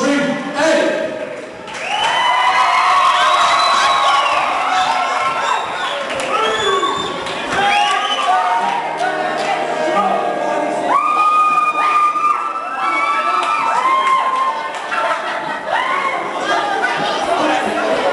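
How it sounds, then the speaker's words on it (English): A live-show crowd bursts into loud applause and cheering for Big Ed, with whoops, shouts and chatter mixed into the sustained clapping, swelling early and staying strong throughout. "Give a big, big round of applause for Big Ed."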